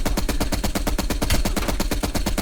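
Machine gun fire in Call of Duty Black Ops Cold War: a loud, sustained burst of rapid, evenly spaced shots, about ten per second, running without pause and with no talk.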